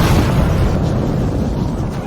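An explosion inside an apartment unit in a Korean film scene, followed by fire and smoke: a loud, continuous low rumbling roar that holds steady for about two seconds with no clear separate blasts.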